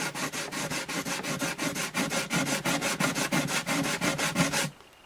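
Sandpaper rubs back and forth on a guitar bridge to smooth a newly installed dot inlay on an Alvarez Artist AD65 acoustic, a close, rhythmic series of about twenty rasping strokes that stops abruptly.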